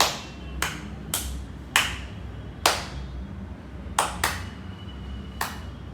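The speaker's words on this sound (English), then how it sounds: "if I clap at different speeds," Hand claps, sharp and fairly close, about eight in six seconds at uneven spacing that speeds up and slows down, with no steady beat, over a quiet background hum.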